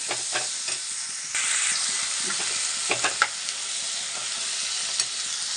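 Chopped spring onion stalks frying with ginger-garlic paste in a pan for an egg curry, a loud continuous hissing sizzle with scattered stirring scrapes throughout, heard close with no voices.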